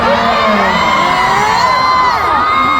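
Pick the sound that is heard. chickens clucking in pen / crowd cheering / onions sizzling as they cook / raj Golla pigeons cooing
crowd cheering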